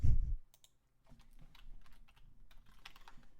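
Someone types on a computer keyboard at close range, a thump followed by a short pause and then irregular bursts of soft key clicks.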